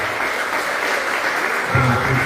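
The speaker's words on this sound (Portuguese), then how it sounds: "As palmas para você bem forte nesse mês." Loud applause from a church congregation during a worship service fills the space steadily, and a voice starts talking over the clapping near the end.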